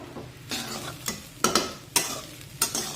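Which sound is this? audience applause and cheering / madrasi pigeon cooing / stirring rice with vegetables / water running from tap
stirring rice with vegetables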